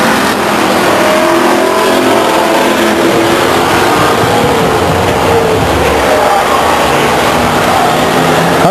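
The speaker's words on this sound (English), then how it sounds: "Coming around for the halfway point, Lovelace your leader." Race cars roar past continuously at Stockton 99 Speedway, a loud, dense engine drone that swells and fades slightly as cars pass close by, with no clear voices over it.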